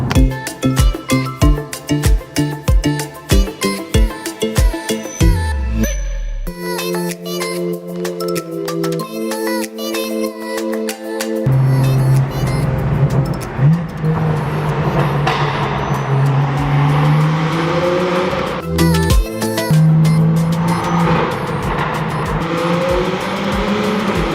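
An Acura NSX sports car engine revs hard and roars, echoing loudly inside a tunnel near Malibu, with gear changes and rising, sustained acceleration.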